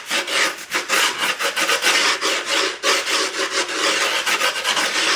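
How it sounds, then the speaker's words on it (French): A metal screwdriver is pressed and dragged along the edges of a skateboard deck to crease fresh grip tape, making a loud, continuous close-up scraping and rasping with a quick stroke rhythm and no talk. "Donc vous prenez un tournevis ou tout autre truc en métal qui va bien. Et vous appuyez comme ça sur les bords."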